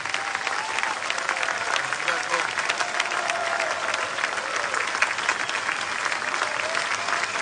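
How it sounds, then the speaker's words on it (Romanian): An outdoor crowd at a city-days festival in Suceava, Romania, applauds loudly and steadily throughout, a dense wash of clapping with some cheering mixed in. "vreau să întoarcem acest salut cu cele mai puternice aplauze pe care le aveți dumneavoastră pentru frații noștri din Basarabia"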